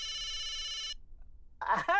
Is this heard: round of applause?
no